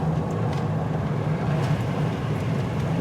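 Jeep Wrangler Rubicon driving along as it downshifts, a steady low engine and drivetrain rumble with road noise, continuous and fairly close, with no voices.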